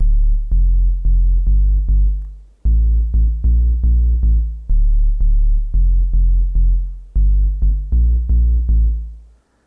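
Deep bass synth preset in NanoStudio playing a repeating pattern of loud, low, throbbing notes in short bursts with brief gaps, heard alone with no talk.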